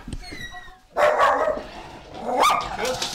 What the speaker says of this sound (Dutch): En een boze hond.